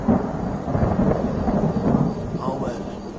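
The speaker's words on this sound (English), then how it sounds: "This rain will stop eventually." Steady rain and rolling thunder from a rainstorm in the video game Skyrim form a dense, continuous wash that stays loud and even throughout, with no distinct separate claps.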